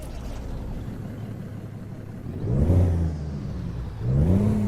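A 444 engine in a Peterbilt 352 truck in American Truck Simulator, idling low and steady, then revving up twice in short bursts that rise in pitch and fall back.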